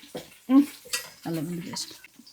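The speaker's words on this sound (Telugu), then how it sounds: "ఆనియన్స్ కొంచెం ఫ్రై అయిపోయాక దీంట్లోకి కొంచెం కరివేపాకు వేసుకోవాలి బాగా తిప్పుకోవాలి" Fried onions and curry leaves stirred in a pot with a metal spoon, a few close scraping and clattering strokes, then a steadier stirring scrape with faint sizzling, no talk.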